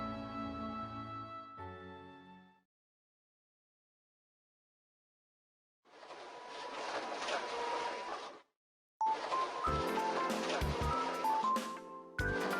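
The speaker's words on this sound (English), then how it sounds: "I listened to the sound of our printer working quietly in the background." A printer runs quietly in SeaBed, mechanical whirring in two separate bursts with a few electronic tones near the end, after a brief musical chime and a stretch of silence.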